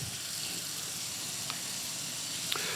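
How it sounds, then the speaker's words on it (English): Steady hissing spray of water from a kitchen sink spray nozzle running throughout, fairly constant and close, with a couple of faint clicks. "Spray nozzle works."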